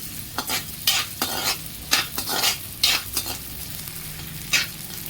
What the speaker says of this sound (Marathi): थोडा डिंक घालून आता त्याला हलका हलका तळून घेते मस्त फुलेपर्यंत